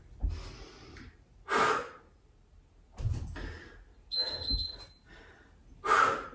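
Five loud, breathy exhales during a yoga HIIT leg workout, forceful whooshing bursts spaced about every one and a half seconds, close to the microphone with short quiet gaps between them.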